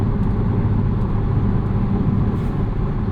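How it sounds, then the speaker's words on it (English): A BMW Z4 M40i cruising on the highway in comfort mode, its exhaust subdued beneath a loud, steady low rumble of road and wind noise that runs unbroken throughout with no talk. "Cruising on the highway, comfort mode, exhaust quiets down,"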